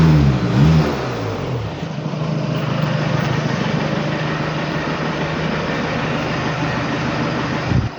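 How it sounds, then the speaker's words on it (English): A September 2017 Volkswagen Golf 2.0 TDI GTD diesel with DSG gearbox and 52k miles revs in a short burst at first, then holds a steady, raised, droning engine note, heard close and without talk. "I mean, I can rev it for you."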